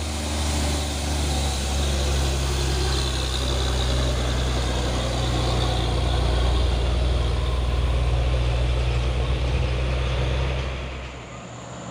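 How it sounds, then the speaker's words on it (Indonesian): Heavy trucks and other vehicles grind up the Bukit Kodok uphill road in a steady, loud low engine drone that holds through the whole stretch and eases slightly at the very end. "Terpantau ramai lagi kendaraan yang berlewatan di tanjakan Bukit Kodok."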